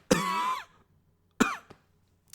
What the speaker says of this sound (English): The cough's coming back.